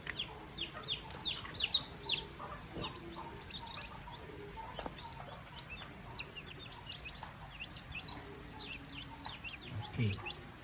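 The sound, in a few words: newly hatched chicks peeping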